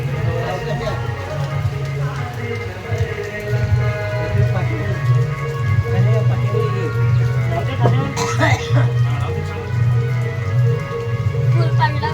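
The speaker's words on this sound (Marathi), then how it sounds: "आता बघा पाऊस पण आहे" Steady rain falls outdoors during a village Ganesh immersion procession, a constant close patter under a low continuous hum, with a brief sharper burst of noise partway through.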